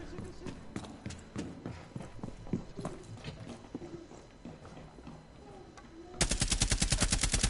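Gunfire in the video game Rainbow Six Siege on PS4: a sharp, very rapid burst of automatic shots near the end, loud and close, after busy footsteps, clatter and in-game sounds, with players talking over it.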